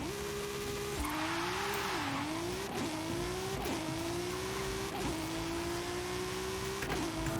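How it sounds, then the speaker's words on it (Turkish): A BMW drives along back roads in the video game Forza Horizon 5, its engine holding a steady droning note that rises and dips with gear changes, clear and continuous with no talk. "Bu arabayı da şöyle ara yollarda sürelim arkadaşlar."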